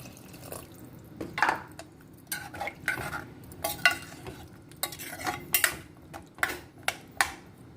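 Tamarind water being stirred in a cooking pot, with irregular clinks and scrapes of a utensil and light liquid sloshes, fairly quiet and close.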